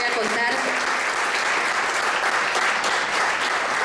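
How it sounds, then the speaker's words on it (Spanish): Sustained audience applause greets guests arriving on a Spanish-language show, dense and even throughout, with a brief voice briefly audible near the start. "me parece que ellos se merecen un fuerte aplauso para recibirlos"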